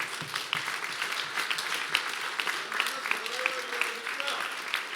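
An audience at a leadership event claps steadily in a dense, sustained round of applause, with a faint voice briefly audible beneath it.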